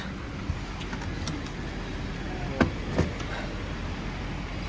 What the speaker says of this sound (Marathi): गाडी आली आता आम्हाला एअरपोर्टला ड्रॉप करायला.